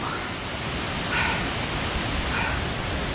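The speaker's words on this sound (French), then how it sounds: "La cascade du Hérisson." The Hérisson waterfall in the Jura gives a steady, broad rush of falling water heard from a distance, constant throughout with no pauses.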